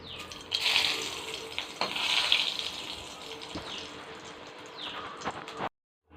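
Water runs from a kitchen tap into a sink during home cooking, a splashing, gushing flow in uneven bursts that stops abruptly near the end.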